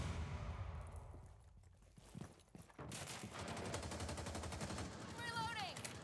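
Gunfire in the Rainbow Six Siege video game, rapid bursts of shots rattling steadily through the second half after a quieter stretch, with a voice faintly present in the mix.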